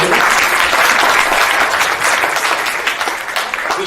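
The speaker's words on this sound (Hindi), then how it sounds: "जोरदार तालियों के साथ स्वागत किया जाए।" An audience at a JEE Advanced toppers' felicitation ceremony in Varanasi applauds loudly and steadily, a dense wash of clapping that holds throughout.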